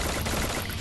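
Sniper rifle fire in the mobile battle-royale game Free Fire, a brief, dense burst of loud gunfire noise filling the whole moment with no pause.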